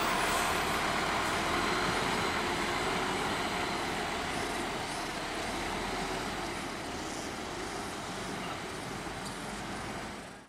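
Yuanda Prima coach bus with a Morodadi Patriot TE body, bound for Palembang in the morning, gives a loud, steady engine rumble and road roar close by for about ten seconds, easing slightly toward the end, with no talking.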